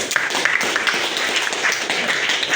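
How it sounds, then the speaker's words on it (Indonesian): Classmates clap for a student in a classroom, giving steady, moderately loud applause from a small group that continues for a few seconds without talk. "Berikan tepuk tangan kepada Sultan."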